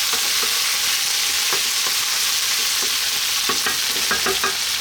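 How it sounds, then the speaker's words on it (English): Capers being stirred into eggplant frying in a pan for a vegan tomato pasta: a steady, loud sizzle with a few soft scraping taps from the utensil, and no one talking. "We're now going to drop in those capers. Give them a little mix in there."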